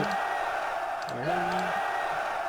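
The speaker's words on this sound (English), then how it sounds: "Lovely crowd noises when we hire them for no apparent reason" Crowd noises from the video game Might & Magic 8 when hiring a character, a brief cluster of cheering voices and a rising whoop over a droning background, moderately loud.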